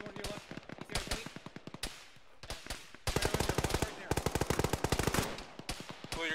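Machine gun fire in the Arma military video game, long rapid bursts of sharp shots in tight rhythm with brief pauses between strings, loud and close, no talk over the firing.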